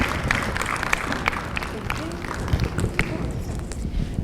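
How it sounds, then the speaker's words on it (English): Audience applause at the end of a community talk, steady clapping with scattered louder claps from a crowd, carrying on at an even level throughout. "give them another round of applause"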